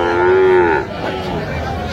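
A single Sahiwal bull calf lets out a long, loud moo nearby that trails off, followed by quieter background noise at a cattle market.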